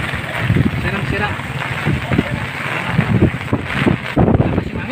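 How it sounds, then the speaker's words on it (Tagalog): Strong typhoon wind gusts roar and buffet the microphone during a storm in a flooded subdivision in Montalban, Rizal, a loud, continuous rushing noise with surging bursts. "malakas yung hangin mga kapay, malakas"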